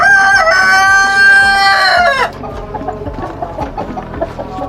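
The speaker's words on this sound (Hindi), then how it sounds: "ये जो हैं ये सिल्की हैं माशाल्लाह" Silkie chickens on a fancy poultry farm give a loud, close rooster crow lasting about two seconds, followed by busy overlapping clucking and chattering from the flock.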